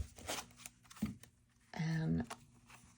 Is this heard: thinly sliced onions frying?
no